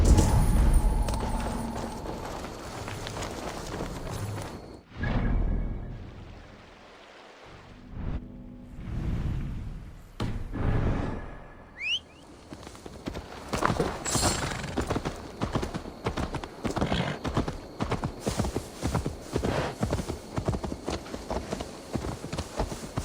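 Horse hooves clip-clop in Assassin's Creed Valhalla as a horse is led along, a steady rhythmic trot of close, fairly loud footfalls under game music and ambience.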